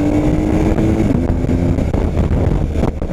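A BMW R 1250 GS motorcycle being ridden, its engine droning steadily and loudly with shifting pitch, heavy wind buffeting the microphone throughout and no talking.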